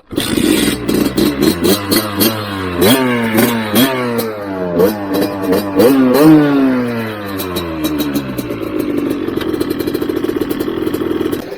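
An abandoned motorcycle's engine revs up and down again and again, loud and close, each throttle blip rising and falling sharply, then settles into a rough, rattling idle toward the end.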